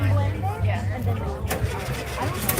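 A Volkswagen engine cranks and catches at an outdoor car show, a rough mid-pitched rumble rising over crowd chatter and nearby voices talking.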